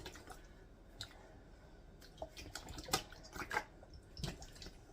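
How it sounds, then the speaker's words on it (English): Thick home-canned peach pie filling slides from a quart container into a jar, giving soft wet plops, squishes and drips in a quiet kitchen, with a few light clicks. "we're just going to pour that in the jar"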